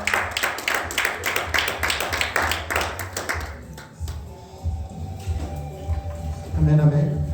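Church congregation at a Sunday service clapping rhythmically in a fast steady beat for several seconds, mixed with cheering voices, then the claps fade into crowd noise and talk.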